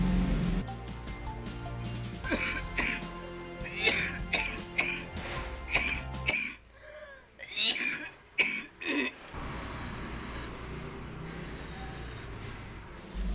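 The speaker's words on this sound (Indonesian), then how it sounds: "Nah, saya contohkan ya cuplikannya saat saya batuk." Repeated harsh coughs in bursts, some spaced apart and some in quick clusters, close by over a steady low background hum.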